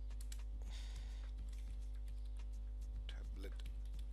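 Keys clicking on a computer keyboard as a command is typed into Windows 10, a few scattered keystrokes and short bursts over a steady electrical hum.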